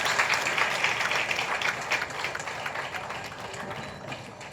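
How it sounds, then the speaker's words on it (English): Audience applause for chief guest R.J. Balaji at Gleneagles Hospital's unveiling of a liver OPD suite: dense, sustained clapping from a crowd that slowly tapers off. "Shall we give a round of applause for R.J."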